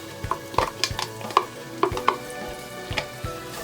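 Garlic and onions tossed into a pan of roasted spices, giving a close, steady sizzle broken by a handful of sharp scrapes and clinks from a stirring utensil, with no talking.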